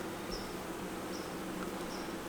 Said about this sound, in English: Look at those bees on this outer frame.